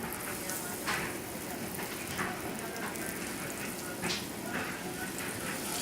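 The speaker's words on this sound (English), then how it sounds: "So let's saute the veal, dust it in flour." Flour-dusted veal sautéing in a pan, a steady crackling sizzle with small pops scattered through it, heard close up and continuing without a break.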